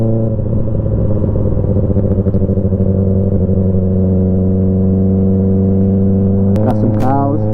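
A motorcycle engine idles and runs steadily after an oil change, a loud continuous rumble with a harmonic drone, rising briefly in pitch near the end as it revs.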